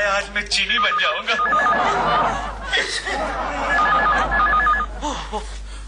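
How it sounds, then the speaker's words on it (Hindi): A telephone bell rings in a repeating ring pattern at moderate loudness within a Hindi TV serial scene, partly under voices and light laughter. "घंटी टेलीफोन ने बजाई है।"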